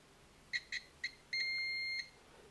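A multimeter set to continuity mode on an electronics stepper driver board gives three short beeps, then one longer steady beep of about two-thirds of a second, heard quietly and alone.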